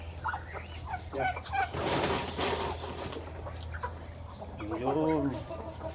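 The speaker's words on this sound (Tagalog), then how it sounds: "May manok pa. Ang daming pato na rin." Chickens cluck and call in a Mindanao farmyard crowded with ducks, a busy run of repeated squawks and clucks of varying loudness, with a brief stretch of faint talk in the background.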